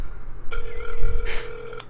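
A telephone rings in the video game Silent Hill 4, a steady electronic ringing tone that starts partway in and holds for over a second, with a brief burst of noise near the end and no talking.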